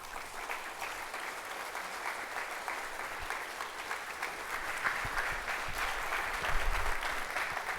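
An audience claps steadily to welcome historian Carol Berkin at a book talk on the 1790s, the applause dense and sustained throughout and swelling slightly toward the end.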